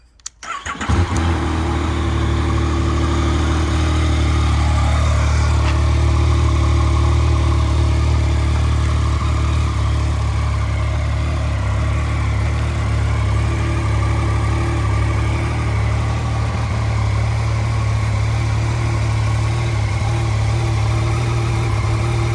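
A 2016 Yamaha MT-09 850 cc naked bike with its stock exhaust cranks and fires, then settles into a loud, steady idle that runs on without revving.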